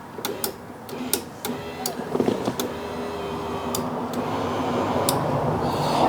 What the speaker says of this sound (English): I have never used power windows before, okay?